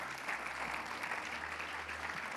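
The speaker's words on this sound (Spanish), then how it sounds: "Denle un aplauso al Señor" A church congregation claps together during a Wednesday prayer service, giving steady, dense applause that stays even and fairly soft for the whole stretch, with no talking over it.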